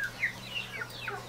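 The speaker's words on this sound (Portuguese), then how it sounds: "eu tava mostrando pra vocês meu casalzinho de galinha da Angola" Pair of guinea fowl giving short, sharp clucking calls, several quick chirpy notes in a row, fairly faint over a low background hum.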